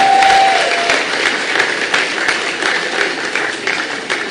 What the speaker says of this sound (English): which I think deserves another round of applause